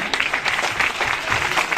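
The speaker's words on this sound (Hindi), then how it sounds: "एक बार इन सभी लोगों के लिए जोरदार तालियां।" Audience applause at an RCM business marketing-plan seminar in Faridabad, a dense, steady wash of many hands clapping throughout, fairly close and uninterrupted, with no speech over it.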